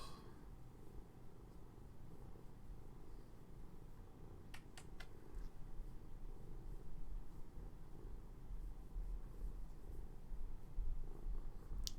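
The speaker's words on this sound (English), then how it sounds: "Just listen to that purr." A pet cat purrs close by, a low continuous rumble that rises a little in the second half, with faint clicks near the middle and no voices.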